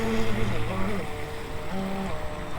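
The electric motor of a remote-control fishing boat hums at part throttle out on the water, blending with wind and water noise while people talk nearby.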